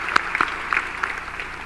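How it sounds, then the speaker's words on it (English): Brief applause from the audience at a university investiture ceremony for a president, a few scattered claps over steady room noise and lasting under two seconds. "Let's give a round of applause for President Evans."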